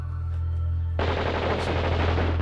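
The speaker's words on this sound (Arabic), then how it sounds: "اسمع صوت رصاص وميان" Bursts of gunfire ring out nearby inside a village, a sudden dense rattle of rapid shots that erupts after a low steady hum and keeps going, loud and without talk.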